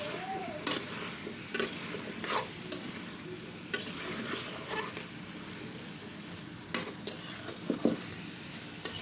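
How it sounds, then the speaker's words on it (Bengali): Chicken with ash gourd and potatoes being stirred in a pot over a soft frying sizzle, with repeated scraping and clinking of the utensil against the pot at an irregular pace, close up and with no talk. "এখন দিয়ে দেব জালি কুমড়া এবং আলু একসঙ্গে দিয়ে দিলাম। ভালো করে নেড়ে দিতে হবে।"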